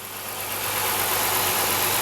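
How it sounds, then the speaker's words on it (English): A 2005 Dodge Magnum SXT with a newly replaced engine idling, a steady, even engine hum and rush heard close and fairly loud with no talking. "you guys, the car is now running."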